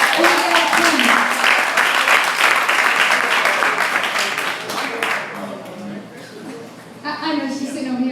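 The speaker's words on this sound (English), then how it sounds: "Clap it up, guys." Audience at a Florida poetry slam breaking into loud, dense applause and cheers that gradually fade, with a host's voice speaking over the tail end.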